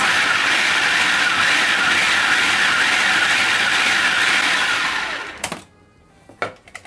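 A food processor blends oatmeal with almond flour, baking powder, salt and cinnamon: a loud, steady whirring roar for about five seconds that cuts off abruptly, followed by a couple of faint clicks and clatters.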